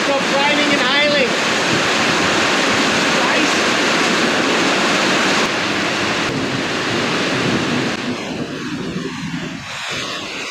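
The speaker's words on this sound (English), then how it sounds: "We'll come back when it stops raining and hailing." Heavy rain and hail pour down in a dense, steady roar, loud and close, with a faint voice briefly audible near the start.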